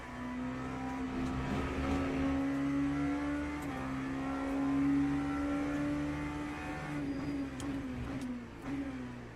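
LMP3 race cars in the Le Mans Ultimate racing game drone steadily with a sustained engine note, pitch shifting slightly as they run close together, with no talking.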